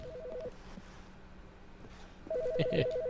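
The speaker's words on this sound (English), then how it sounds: "Oh, the phone." A telephone in The Stanley Parable video game rings in short warbling electronic bursts, one at the start and another near the end, with a brief overlapping clatter and a quiet pause between.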